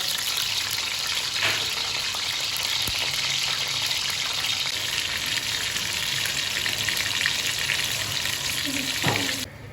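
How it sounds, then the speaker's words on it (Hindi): Slit green chillies fry in hot ghee for a bhindi gosht dish, a loud, continuous, even sizzle with a few soft clinks of the utensil, then it drops off abruptly at the end. "मिर्चों को हमने अच्छी तरह से फ्राई करना है इसमें।"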